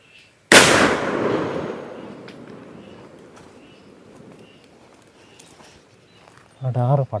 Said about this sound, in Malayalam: അടാറ് പടക്കാട്ടോ, നല്ല സൗണ്ടാണ്